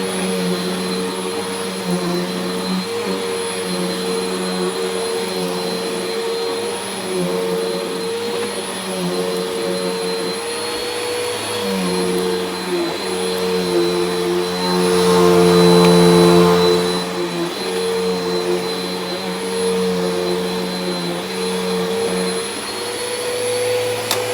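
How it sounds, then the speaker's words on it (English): A steady, loud vacuum cleaner whine on carpet runs throughout, its pitch shifting slightly as it moves, swelling briefly near the middle. "This carpet's really annoying to vacuum."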